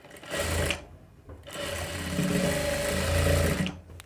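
A sewing machine stitches the neckline onto the back panel of a boat neck blouse, whirring steadily in two close runs separated by a brief pause, with a short stop at the end.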